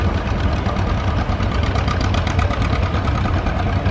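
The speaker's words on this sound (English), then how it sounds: "Another tractor weighing and lined up," An antique tractor idles while lined up at a tractor pull, a steady loud chugging rumble with a fast, even rhythmic knock throughout.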